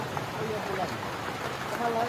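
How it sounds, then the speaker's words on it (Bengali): Steady rain falls throughout, a continuous patter of drops with soft, even texture and no pauses. "বৃষ্টি নামতাছে"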